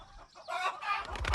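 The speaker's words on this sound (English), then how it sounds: "One evening, the hen is squawking." A hen squawks loudly and close by in a farmyard, with harsh, rising cackles that grow denser and louder toward the end. No one speaks.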